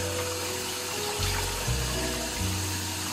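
Water poured steadily from a tall cup over a dog during a bath, a continuous close splashing flow with slight surges, with no talking.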